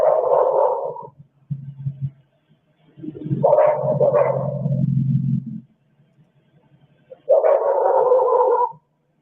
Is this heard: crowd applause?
no